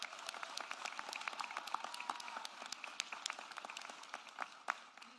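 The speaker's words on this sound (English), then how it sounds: "They deserve a round of applause." An audience applauds at a Texas governor's announcement at Austin airport, a steady patter of many hands clapping, fairly faint and distant, with no talk over it.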